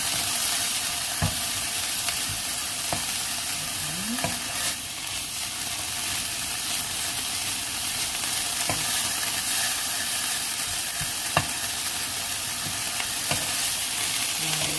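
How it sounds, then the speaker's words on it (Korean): Dried pollack stir-fried in a pan sizzles steadily, with scraping stirs and occasional clicks of a utensil against the pan throughout, close and continuous with no talk. "달달달달 볶아줍니다."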